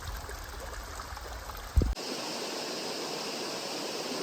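A flowing brook on the Appalachian Trail gives a steady, broadband rush of water, heard up close after a brief bump, continuous and fairly loud with no talking.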